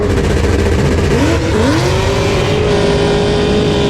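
Drag race cars launching down the strip, a Tesla Plaid against a ZL1 Camaro: a loud, constant roar with engine tones sweeping upward as they accelerate, heard close and filling the whole stretch.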